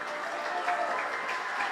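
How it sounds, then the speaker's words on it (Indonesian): Audience at a school health seminar in Jakarta applauds a speaker, a dense steady clapping from a room full of people, filling the short moment without talk. "beri tepuk tangan yang meriah bagi pembicara kita hari ini, Ibu Mayasari."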